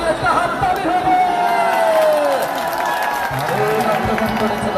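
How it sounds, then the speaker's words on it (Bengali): Crowd at a village football final clapping and cheering in a steady, dense wash, with a commentator's amplified voice talking over it throughout. "অসাধারণ অসাধারণ রতনপুরবাসী একটা হাততালি হবে"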